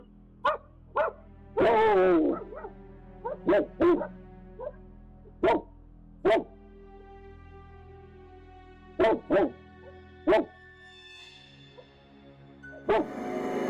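Dogs barking in a series of sharp separate barks and yips, some close and loud, spaced irregularly with short pauses, one drawn-out whining bark early on.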